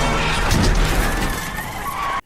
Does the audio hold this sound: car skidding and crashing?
yes